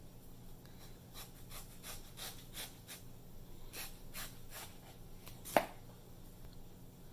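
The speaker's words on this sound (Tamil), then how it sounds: "இந்த மாங்காவை இப்போ தோல் சீவிட்டு நான் கட் பண்ணுறேன்" A raw mango being peeled and cut by hand, soft repeated scraping strokes in a steady rhythm, close but faint, with one sharper knock near the end.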